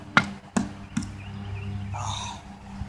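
A tomahawk handle gets its pin knocked out with three sharp, evenly spaced strikes, close and loud, followed by a softer scraping rattle as the head shifts.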